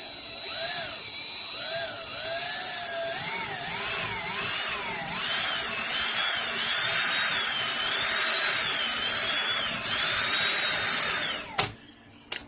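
A power drill twisting wire for a fused clapton vape coil build: a whining motor that rises and falls in pitch as it spins up and slows, running steadily before cutting off abruptly.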